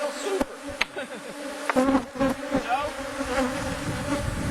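Honey bees buzz densely around an open hive during an inspection, a close, continuous drone with sharp knocks and equipment clatter, and a brief spoken word.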